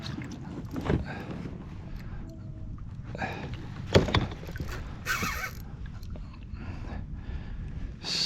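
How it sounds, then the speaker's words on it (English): A kayak spins in circles on the water during a fishing trip, with soft paddle splashes, hull knocks and scattered thumps over a low ambient rumble, a couple of sharper clunks standing out. "Spinning the kayak in circles, this one."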